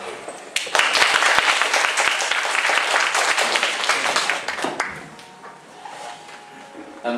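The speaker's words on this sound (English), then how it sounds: "let's give a big applause to the Dr. Vallory" An audience at a scouting and citizenship education talk applauds the speaker with a burst of clapping that swells quickly, holds for about four seconds, then fades, leaving quieter room sound and a voice near the end.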